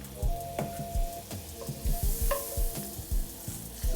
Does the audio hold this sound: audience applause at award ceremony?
no